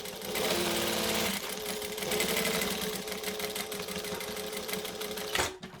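A sewing machine stitches along a wallet zip, forward and back. It gives a close, rapid mechanical whir with a brief clunk near the end.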